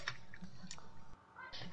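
Quick bursts of keyboard typing, light clicky taps in short irregular runs, close but quiet against a low background hum.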